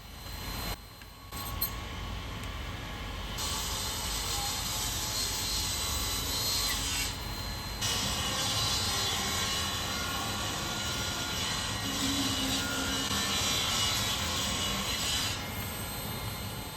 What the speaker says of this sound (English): So we'll get all 3 of these cut on the table saw to 2 inches wide.